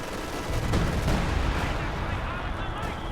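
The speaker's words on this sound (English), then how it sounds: "I actually called some artillery down on this" Artillery barrage in Company of Heroes 2, a British-versus-Wehrmacht match: a dense, continuous roar of distant shelling and gunfire rumbles for about three seconds, swelling slightly partway through with overlapping booms.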